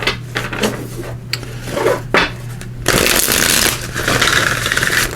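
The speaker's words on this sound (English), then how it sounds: "Give these a good shuffle." Oracle cards being shuffled by hand at close range: a few light riffles and taps, then a dense, steady flutter of card shuffling with no talk.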